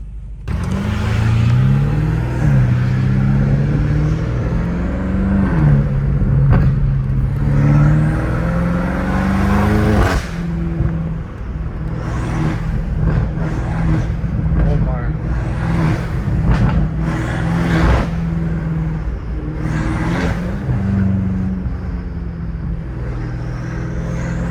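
A BMW M5 Competition with a titanium catback exhaust revs repeatedly in quick pedal stabs, loud and close with turbo whoosh, while someone talks over it throughout.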